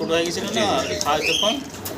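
Khaki pigeons, kept with a chick and offered for sale, coo in soft, throaty, rolling calls close by while a person talks over them.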